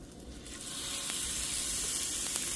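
Four hamburger patties sizzle in a pan, a steady close frying hiss that swells in the first second and then holds evenly, with no talking.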